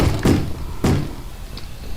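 A mob knocks on a wooden door in the video game Minecraft, two heavy, close thuds about half a second apart, followed by quiet.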